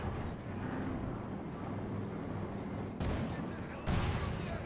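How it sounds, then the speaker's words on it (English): Battle sounds from the strategy game Company of Heroes 2, with a continuous rumble of distant explosions and gunfire and two sharper blasts near the end, fairly quiet overall. "More explosions, more death, more destruction."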